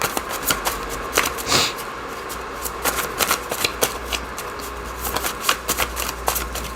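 Tarot cards riffle and slap together in a series of quick, crisp shuffles, close up and fairly quiet, with short pauses between bursts.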